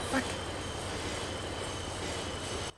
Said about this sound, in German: Zug bremst!